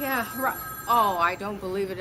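A voice imitates a ringing telephone in short, warbling, bell-like bursts, mixed with spoken lines from another person.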